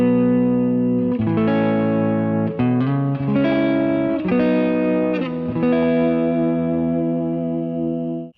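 Clean electric guitar through a Kali 76 compressor with light reverb plays sustained chords and arpeggiated notes, close and even in level, with a soft ringing tail and no talking.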